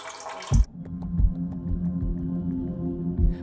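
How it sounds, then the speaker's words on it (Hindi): Water pouring and splashing from a street water pump as buckets are filled with muddy water in a Russian town, a steady close gush with a few knocks and sloshes. "स्ट्रीट पर लगे इस वाटर पंप से लोग रोज़ाना मटियाले पानी की बाल्टियां भर भर के अपने साथ ले जाते हैं।"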